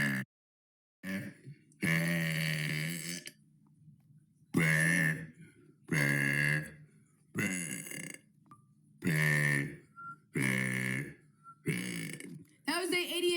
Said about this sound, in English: That was day 88 of burping for 100 days.